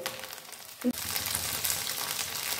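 Batter-coated stuffed paneer sizzles steadily in hot oil, a dense close frying hiss with a brief clatter near the start, then continuous bubbling crackle to the end.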